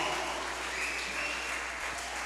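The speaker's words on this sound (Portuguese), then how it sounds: "aplauda o Senhor" A church congregation applauds during a Portuguese-language worship service, a steady even wash of many hands clapping throughout, fairly distant and reverberant, with no speech over it.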